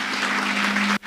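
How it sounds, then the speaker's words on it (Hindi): An audience at a training session applauding for a participant, a dense even patter of many claps with a faint sustained tone underneath, cutting off abruptly near the end. "तालियां बजाइए इनके लिए"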